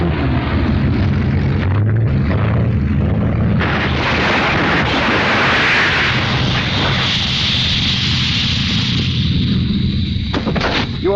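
A Spitfire-era fighter overshoots its landing with flaps up, a loud, sustained roaring engine and rushing noise filling the scene, swelling and churning throughout with harsh bursts near the end.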